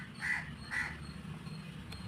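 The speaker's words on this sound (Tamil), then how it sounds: "இந்த காக்கா இப்போ தான் போச்சு. இப்போ திரும்பி வந்து கட்டிக்கிட்டு இருக்கு." Two distinct crow caws close together near the start, followed by a quieter stretch of low background rumble, with no talking.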